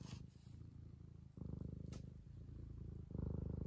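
A cat lies purring on a cluttered desk, a close, quiet, steady rumble that pulses in rhythm with its breathing and swells slightly louder in the later cycles.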